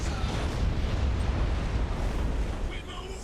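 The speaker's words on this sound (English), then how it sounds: "Can I torpedo this thing some more?" Torpedo explosions in the space strategy game Battlefleet Gothic: Armada 2 form a heavy, continuous low rumble of blasts that fills the whole stretch, with a faint voice underneath.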